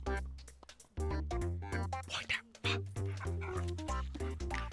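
A dog in a Tamil film scene whimpers and gives short yips and barks in uneven bursts, close and fairly loud, with a whining, tonal quality between the sharper calls.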